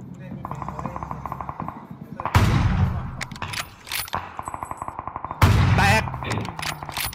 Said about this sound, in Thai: ปืนคุณภาพมานี่แต่กูยิงแม่งยากไปหน่อยวะ